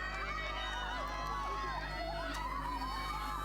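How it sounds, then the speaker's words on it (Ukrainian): Spectators along a ski race course shout and cheer in a steady, distant crowd roar, with whistles rising above it while a commentator talks over the noise. "Неймовірні вигуки уздовж дистанції лунають."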